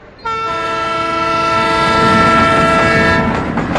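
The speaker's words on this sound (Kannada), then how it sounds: "ಕಣ್ಬಿಟ್ಟು ನೋಡ್ರಿ, ಟ್ರೈನ್ ಹೋಗ್ತಾ ಇದೆ." A train horn sounds in one loud, steady blast for about three seconds as the train passes close by. Its rumble and rattle swell underneath and linger after the horn stops.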